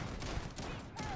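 Rapid-fire weapon shots in Starfield, a dense volley of quick repeated gunfire bursts pulsing steadily at close range with no pause.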